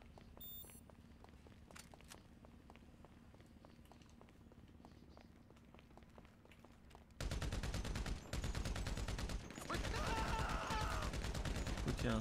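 Machine gun fire in a survival shooter game, a sparse rattle at first, then dense continuous rapid bursts filling the second half at steady volume.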